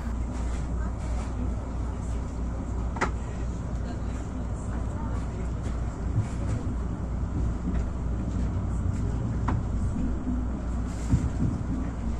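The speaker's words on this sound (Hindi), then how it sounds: "140 और 160 किलोमीटर फ़ी घंटा की रफ्तार से ट्रेन पहुंची अब केक रेलवे स्टेशन" Interior rumble of a high-speed passenger train in Saudi Arabia running at 140 to 160 km/h between stations on the way to Dammam, a steady broadband roar throughout with a few faint clicks, no talk.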